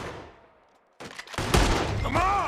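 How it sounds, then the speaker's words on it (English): Gunfire crackles in the Red Dead Redemption 2 video game during a Western shootout, with a burst of sharp overlapping shots after a brief quiet, followed by a ringing whine. "They're shooting right at me."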